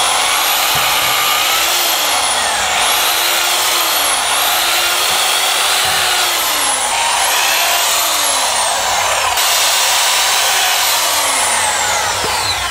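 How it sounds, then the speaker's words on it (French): A drill spins a small wire brush to clean threaded holes on a SsangYong Rodius rear axle assembly, giving a loud continuous high whine that dips and recovers in pitch in repeated bursts as the brush loads and frees. "J'utilise ma perceuse avec une petite brosse métallique du diamètre qui convient."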